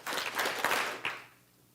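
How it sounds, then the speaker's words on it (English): Students at a youth motivational assembly clap three times together on cue, a brief run of crisp group claps with a short murmur before them, the last clap ringing out into quiet. "I want you all to clap 3 times."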